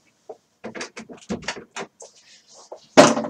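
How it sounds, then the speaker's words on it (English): A door in a quiet room, heard as a run of scattered close knocks and rattles, ending in one sharp, loud bang. "Fuck my door, hold on."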